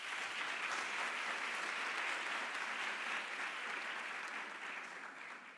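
An audience claps for a speaker named Thokozani at an event, a dense, steady wash of many hands sustained throughout and tapering slightly toward the end, with no voices over it.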